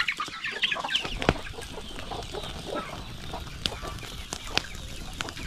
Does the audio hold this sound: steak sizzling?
no